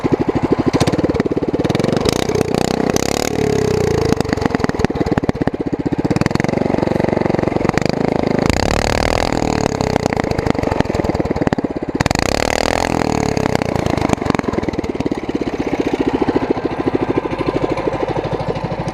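A go-kart's small engine with a torque converter and no chain fitted runs loud and close, revving up and dropping back repeatedly over a steady idle-like drone, with no talking.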